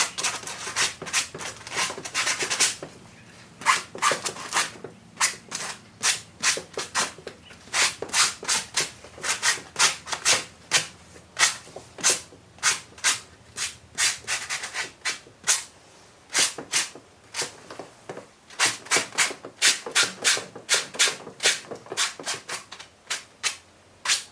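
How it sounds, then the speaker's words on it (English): Rough sandpaper rubbed by hand over a Hulk maquette statue during a repaint, a fast run of short, close, scratchy strokes in uneven bursts, with no talking. "Just getting a rough sandpaper and just giving it some"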